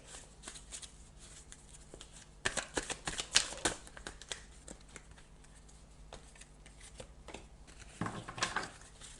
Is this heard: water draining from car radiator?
no